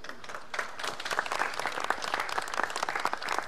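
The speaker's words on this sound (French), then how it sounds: "Merci d'applaudir Patrice Célin de Dinard aussi" An audience claps steadily through a billiards final presentation, a dense wash of applause from a modest indoor crowd with no pauses.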